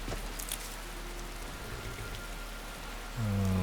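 Steady rain falls in Ivarstead in the video game Skyrim, a soft continuous hiss of drops with no voices, and a low hum swells in near the end.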